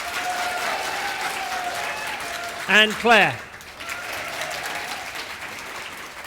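An audience bursts into two short rounds of clapping after a name is called out, the applause loud and brief over a quiet room.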